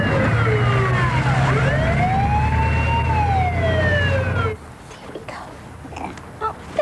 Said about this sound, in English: put your foot down and whack the siren on